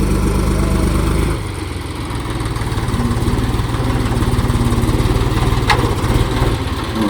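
On a village farm, a tractor engine runs loud and close, with a steady pulsing chug that shifts to a lower, rougher idle and then holds steady.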